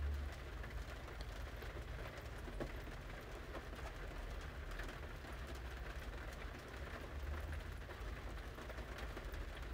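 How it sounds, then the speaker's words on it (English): Steady rain falls outside on a rainy day, a continuous dense hiss over a low rumble that holds even for the full stretch, with no voices. "I wanted you to hear the rain. It sounds so pretty."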